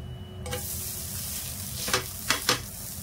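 A dosa fries in oil on a hot pan over a high gas flame, giving a steady close sizzle with a few sharp scraping bursts near the end as it is turned.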